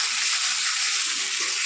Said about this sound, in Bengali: মাংসটা এবারে দিয়ে দিচ্ছি, ভালো করে কষে নেবো।